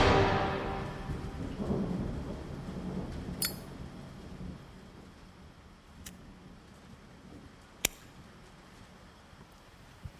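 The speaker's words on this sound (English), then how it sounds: "It's gonna storm." Thunderstorm under a tornado watch: a deep rolling thunder rumble swells at the start and slowly fades, leaving a steady hiss of rain with a few sharp, isolated cracks scattered through.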